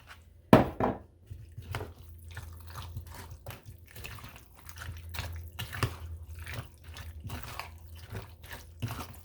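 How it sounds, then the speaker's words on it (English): Half a cup of milk poured while making chicken pot pie, coming out in a run of soft dripping, splashing pulses after a sharp knock at the start, close and fairly quiet. "Now just 1/2 cup of milk."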